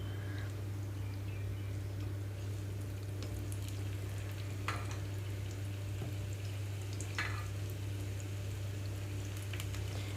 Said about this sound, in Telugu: 2 సార్లుగా వేయించుకుంటున్నాను కాబట్టి ఒక్కసారి నెయ్యి కూడా వేయట్లేదు